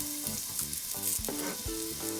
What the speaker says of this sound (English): So I'm gonna put in my onion